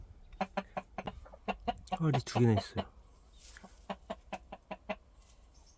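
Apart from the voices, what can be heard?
chickens clucking in a coop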